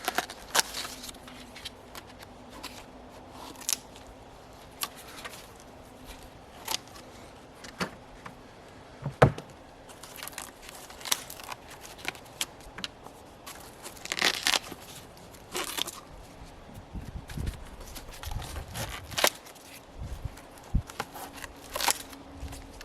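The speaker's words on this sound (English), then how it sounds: "I'm just going to cut these off just to tidy them up," Dried, winterized banana plant stems are cut and pulled away, giving repeated crackling, tearing and crunching snips at close range, separated by short quiet gaps with faint background hum.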